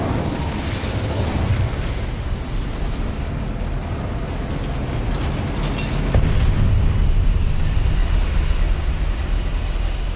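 An Incendio fire spell cast in Hogwarts Legacy unleashes a dense, roaring rush of flame and crackling bursts, loud and sustained, swelling slightly near the end.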